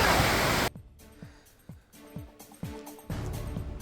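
A rain-swollen waterfall at Belapur in Navi Mumbai roars as loud, unbroken rushing water. It breaks off partway for a stretch of swooping electronic tones, then returns.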